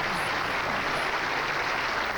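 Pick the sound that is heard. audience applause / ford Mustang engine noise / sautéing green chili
audience applause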